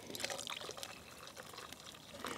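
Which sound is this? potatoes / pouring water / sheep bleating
pouring water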